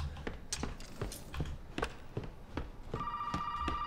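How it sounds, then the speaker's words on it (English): A telephone rings in the survival horror game Resident Evil 7, a steady electronic ring entering near the end after a string of sharp, regular footstep-like knocks, with no talking. "We got a phone call."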